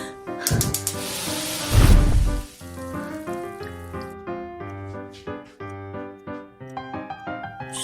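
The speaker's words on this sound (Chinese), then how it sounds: "锅炸了" Frying pan bursting while egg fried rice is being cooked, a sudden loud hissing spray that flares for under a second, then fades under background music.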